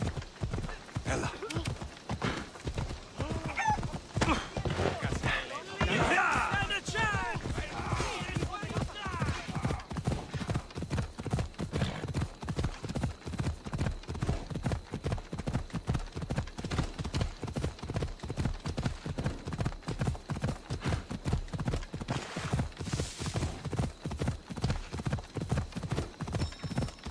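Galloping horse in Assassin's Creed Odyssey, with rapid, steady clip-clop hoofbeats running loud and close through the whole stretch, a brief whinny, and a voice speaking over the hooves.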